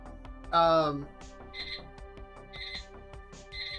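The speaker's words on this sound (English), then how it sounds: "That's a rotate the pan timer." A kitchen timer set to signal rotating the pan in a chicken tray bake goes off, its short electronic beeps repeating about once a second over steady kitchen background noise, with a brief voice near the start.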